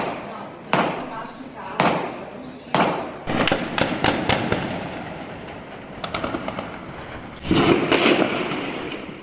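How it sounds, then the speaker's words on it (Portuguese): Gunfire from an armed attack in Araçatuba, São Paulo, including repeating firearms: a series of sharp, loud bangs and rapid bursts echoing across the town, with a heavier burst near the end, against a noisy background. "Não é foguetório não, é tiro."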